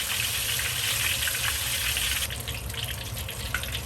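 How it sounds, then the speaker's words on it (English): Hot oil is ladled over a whole fish frying for sweet and sour squirrel fish, giving a continuous close sizzle and pouring hiss that thins out partway through. "keep ladling the oil, because that's you're ladling the oil, it's frying"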